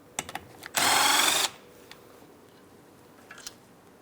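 Power tool spinning out a 15mm caliper mounting bolt on a 2015-2025 Ford Transit 250 front brake: one loud, close whirring burst under a second long, framed by a few faint metallic clicks.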